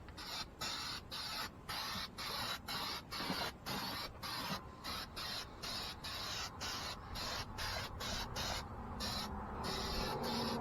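A spray can nozzle hisses in short, regular bursts while painting a 1988 Dodge D100 pickup, the sprays coming close and loud with brief gaps, lengthening into a longer continuous hiss near the end.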